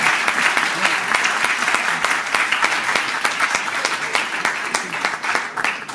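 An audience at a Mumbai festival announcement event applauds steadily for six seconds, a dense, continuous crackle of many hands clapping, loud and close throughout without any speech over it.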